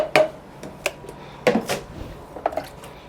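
A metal ladle clinks and knocks against a container while scooping crepe batter beside a hot crepe griddle: a few sharp, separate taps spread over a few seconds, close by and fairly quiet.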